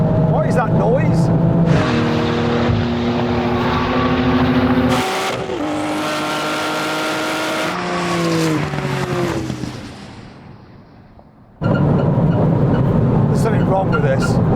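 A Porsche 911 making an odd mechanical noise, a loud engine drone with shifting whining tones that drops away near the end, then returns abruptly, with voices over it.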